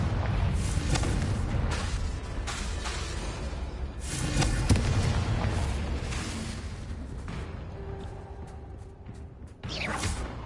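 Confringo fire spell blasts in Hogwarts Legacy, a string of whooshing bursts and thumping explosions at irregular intervals, loud and close, with quieter gaps between casts.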